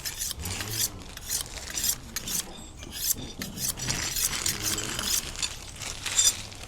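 Knife blade drawn repeatedly along a Dick Multicut sharpening steel, a close, continuous raspy scraping with irregular strokes and light metallic clinks.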